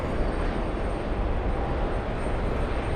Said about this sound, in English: the Royal Jordanian Dreamliner lifting off for what is sure to be a fairly long flight to Amman